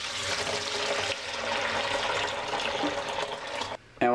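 Sweet apple cider streaming and splashing from a homemade ratchet-driven cider press into a container, a steady liquid rush that fills the clip before cutting off near the end.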